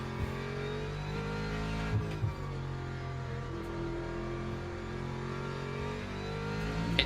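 Race car engine in the Le Mans Ultimate racing game at Bahrain, a sustained droning whine with shifting harmonics as revs rise and fall through gear changes, steady and moderately quiet throughout without talk.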